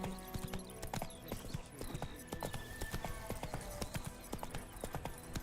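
Roach the horse galloping in The Witcher 3: Wild Hunt, a fast, steady clip-clop of hooves continuing throughout over game ambience, with a brief whinny.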